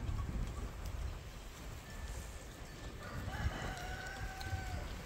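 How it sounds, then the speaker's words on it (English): A rooster crows on a free-range farm among many rare bird breeds and dogs, a harmonic call rising midway through over steady outdoor rustle and a rain-like hiss, with no talking. "that mean old rooster"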